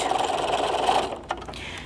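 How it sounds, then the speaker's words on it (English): Sewing machine running a steady straight seam on a zipper pencil case, using a stitch guide; a continuous close whirring motor hum, pausing briefly near the end with a small click. "I'm using my guide on my sewing machine and just keeping that straight."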